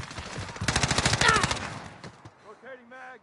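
A rapid automatic burst of about a dozen shots rings out in Call of Duty Modern Warfare multiplayer Domination, loud and close, before it fades and a voice speaks.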